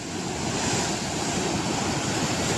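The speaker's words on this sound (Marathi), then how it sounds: "मोठी लाट येते बघूया ती कशी फुटते खूप मोठी लाट येते" A large ocean wave surging and breaking against the rocky Konkan seashore, a continuous loud roar of surf and spray with wind buffeting the microphone, close by and without speech.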